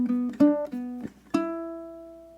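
Ukulele plays a short blues solo phrase, several plucked notes with a bent note, then one final strum left to ring and fade. It sounds quiet and close, with no voices.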